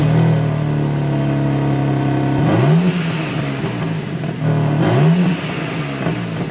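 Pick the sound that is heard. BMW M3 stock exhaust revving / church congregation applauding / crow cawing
BMW M3 stock exhaust revving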